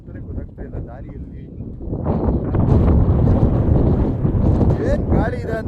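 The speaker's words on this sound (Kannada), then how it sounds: "ಏನು ಗಾಳಿ ಇದೆ ಅಂದರೆ ಮಾತಾಡೋದು ಕೇಳ್ತಾ ಇದೆಯಲ್ವೋ ಗೊತ್ತಿಲ್ಲ" Strong wind gusts across an open hilltop viewpoint at Kalu Top, a loud, steady buffeting rumble on the microphone that swells after the first couple of seconds, with voices talking underneath.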